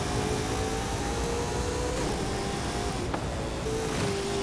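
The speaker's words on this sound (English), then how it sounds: "I think Forza's been doing really well lately with the car sounds, especially with Horizon 5." A Brabham BT62 race car engine in Forza Horizon 5 roars steadily on a track, loud and sustained, its pitch rising and falling slightly with a few brief tonal shifts as it accelerates.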